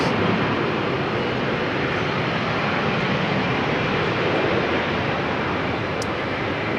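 Steady broadband roar of a German Airways Embraer 190 airliner at rainy Amsterdam Schiphol Airport, continuous and fairly loud with no speech.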